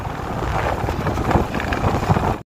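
Steady wind rushes and buffets loudly across the microphone, a broad roaring gust with no voices.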